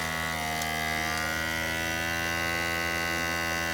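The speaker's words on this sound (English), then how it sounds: "Then you get this vacuum sealer." A vacuum sealer's pump, sealing a ribeye steak, drones with a constant, close electric hum that stays even throughout, with no talking.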